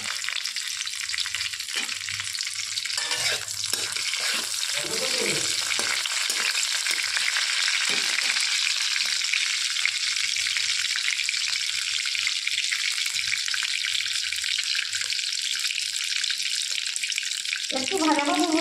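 Whole garam masala and dried red chillies sizzle in hot oil in a pan, a steady bright crackling hiss that runs continuously at close range with occasional stirring scrapes and no talking.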